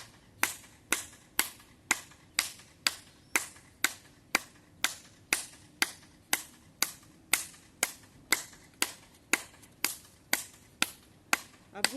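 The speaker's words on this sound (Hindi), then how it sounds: "अब एड़ी उठा के ताली बजनी चाहिए।" During a yoga exercise, hands clap in a steady, even rhythm with heels raised, roughly two sharp claps per second held for the whole stretch. Each clap is crisp and close, with no talk between them.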